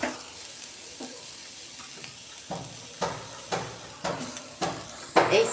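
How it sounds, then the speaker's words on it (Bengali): Grated coconut stir-fried in a hot wok for a dudh puli sweet, with sizzling hiss and a spatula scraping the pan in regular strokes, growing louder toward the end. "নারকেলের ছাইটা আমি মেরে নেব"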